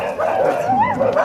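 Dogs at a shelter for street dogs whimper and yip in a wavering, whining tone, close by and fairly loud, with no clear sharp barks standing out.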